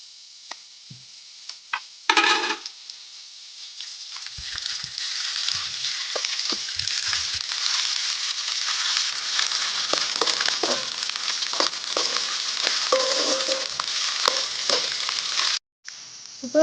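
Onions sauté with ginger-garlic paste in a hot pan for a dried-fish thokku, giving a steady, close sizzle that swells after a clatter near the start, with occasional stirring scrapes and a brief drop near the end.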